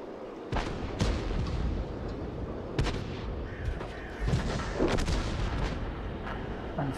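Tank cannon fire in World of Tanks: several sharp, heavy shots ring out at irregular intervals over a rumbling engine bed, some close and loud, others farther and softer.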